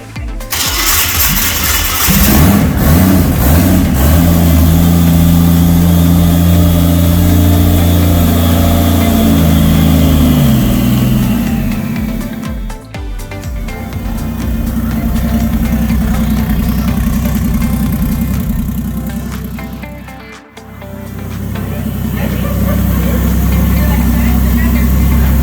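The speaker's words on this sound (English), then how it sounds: "Give it a quick foot on throttle, just give it a little bit of throttle" A workshop engine cranks and fires, then idles with a steady hum before being revved with quick blips of throttle, loud and close, with people talking over it.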